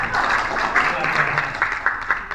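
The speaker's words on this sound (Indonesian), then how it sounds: "Kita kasih aplaus untuk kelompok ini." An audience claps for a group at an Islamic seminar on peat and mangrove ecosystem management, with sustained, moderately loud applause of many hands and a voice heard faintly beneath it.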